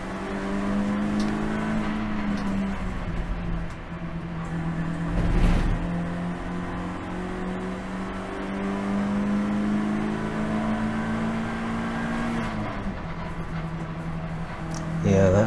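Race cars lapping Brands Hatch circuit, engines droning and shifting pitch as several cars pass at a distance, with a louder whoosh midway and a commentator talking over the steady engine noise.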